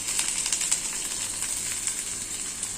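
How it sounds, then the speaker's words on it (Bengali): Okra and onion frying in a pan, a steady bright sizzle with faint crackling pops, close and even throughout, no voices. "পেঁয়াজ, এটা হচ্ছে ঢেঁড়স, আমি ঢেঁড়স ভাজি করব, দিয়ে দিচ্ছি।"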